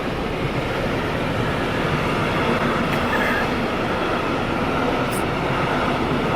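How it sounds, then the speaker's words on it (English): A long train in Germany rumbles past close by, its wheels roaring steadily with faint clatter and a brief high squeal, continuous throughout. "Oh, there is the train."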